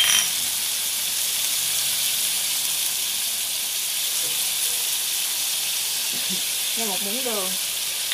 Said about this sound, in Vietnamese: Thì mình sẽ xào nó lên. Các bạn xào cho nó tất cả các gia vị này thấm vào cái cải của mình nha.